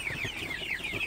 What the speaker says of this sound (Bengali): তো আপনারা দেখতে পাচ্ছেন আমার সোনালী সুপার হেভিট মুরগি